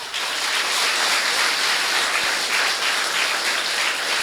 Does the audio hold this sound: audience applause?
yes